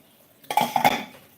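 Enamel tin plates clatter and clink while dishes are washed at home, a short burst of a few close, bright metallic knocks lasting under a second, then settling quietly.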